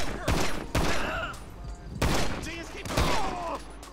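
Gunfire in GTA 5 during a mafia mission, loud sharp shots in several bursts about a second apart, up close, with a few short voice-like sounds between volleys.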